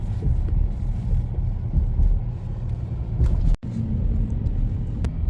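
A car climbing the winding mountain road up Mount Lemmon through the Coronado National Forest near Tucson, Arizona, heard from inside as a steady low rumble of engine and road noise with some wind buffeting and a brief dropout.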